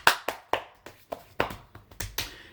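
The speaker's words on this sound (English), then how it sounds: "Ham boning is, in essence, body percussion" Hamboning body percussion, hands slapping and clapping on the body in a quick irregular rhythm, about ten sharp close hits with brief gaps, no talking.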